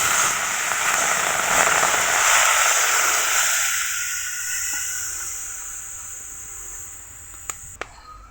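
Water poured into a hot pan of fried dried fish: a loud, bright hiss that swells and then gradually fades over several seconds, ending with two sharp clicks, close by.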